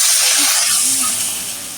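Broth poured into a pan of frying onions, chopped garlic, turmeric and chili for a tilapia and potato curry, a loud close burst of hissing steam that slowly fades.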